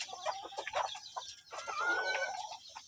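Soft clucking calls from a three-month-old red junglefowl, close and fairly quiet, a few short notes followed by a longer drawn-out call.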